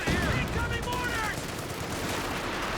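M1919 machine guns on paratroopers rake a Kubelwagen in a Company of Heroes 2 match, sustained rapid bursts mixed with other battlefield gunfire, with someone talking throughout.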